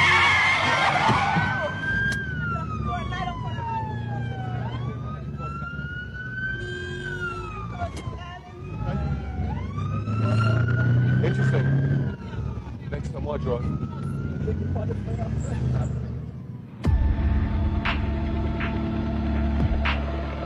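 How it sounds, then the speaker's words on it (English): Wailing sirens rise and fall over the rumble of a moving convoy in Kingston, Jamaica, loud and close, with voices talking beneath and a different siren tone cutting in near the end. "To beat the traffic and jump the lights, they travel on sirens."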